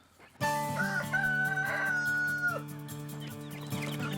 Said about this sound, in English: I raise chickens,